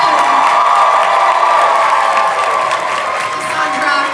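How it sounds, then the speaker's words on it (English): A convention panel audience gives sustained applause, cheers and whoops for Elvira, a loud continuous wash of clapping and shouting that eases slightly toward the end. "Let's give it up for Monty Revolta and another applause for our fabulous Elvira herself, Cassandra Peterson."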